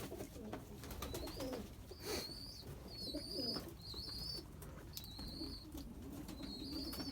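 Pigeons coo steadily around a snowy, flooded coop, soft layered calls close by amid a busy flock, with brief chirps and an occasional wing flap and no talking.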